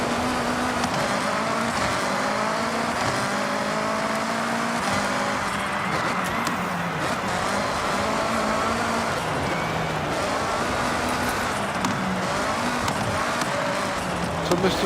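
In Forza Horizon 6, a car accelerates and drifts through sharp turns, its engine revving and falling in rising, sliding tones, with tyre noise over a continuous moderate drone.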